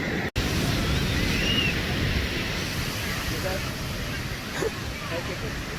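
Ocean surf washing steadily onto a beach, a continuous broadband roar with wind buffeting the microphone, briefly cut by a short dropout near the start.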